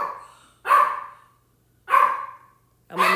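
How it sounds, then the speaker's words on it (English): A dog barks three times, evenly spaced about a second apart, each bark loud, close and sharp with a short tail, separated by silence. "The dogs barked the entire message."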